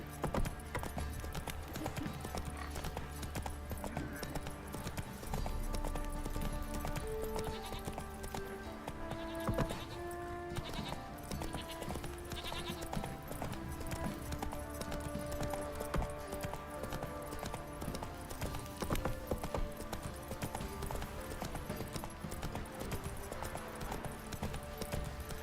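Steady clip-clop of a horse's hooves galloping in The Witcher 3, a continuous rhythmic drumming under game music and ambience, moderately loud throughout.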